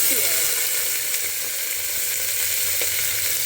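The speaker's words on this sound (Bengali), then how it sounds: "এখানে একটু শুকনো লঙ্কাগুলো ভেঙে নিলাম, এটাই ফোড়ন হিসাবে দিয়ে দিলাম।" Broken dried red chillies tempering in hot oil make a steady, close, dense sizzle throughout, with a faint clink or two of stirring.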